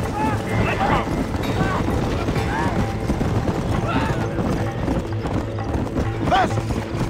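Horse hooves clip-clop steadily in the video game Red Dead Redemption, with whinnies and neighs breaking through now and then and music and game sounds running underneath.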